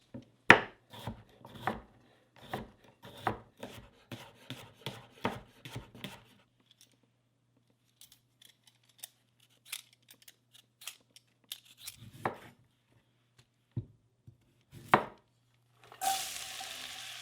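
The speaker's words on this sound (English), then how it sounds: "So we'll be chopping on a different cutting board." Leeks, carrots and onion being chopped with a knife on a cutting board in a cabin kitchen: a brisk run of sharp, close knocks for several seconds, then sparse scattered taps and a short rustle at the end.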